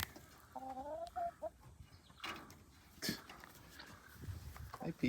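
Farmyard chickens squawk and cluck in short harmonic bursts around a horse, close and moderately loud, with quiet outdoor rustling between calls.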